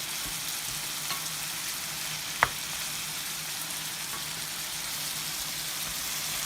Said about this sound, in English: Give my pan another little spin.